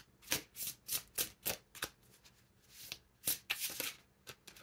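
Tarot cards shuffled by hand at close range, a quiet series of soft riffling bursts in uneven rhythm with short pauses between them.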